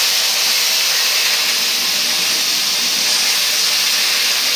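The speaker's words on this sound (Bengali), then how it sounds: "পেঁয়াজটা ভাজা হয়ে গেছে, এখন মশলার জন্য একটু পানি দিয়ে দিই" Water poured into a pan of fried onions while cooking small fish, bursting into a loud, continuous hissing sizzle that holds steady close up with no talk.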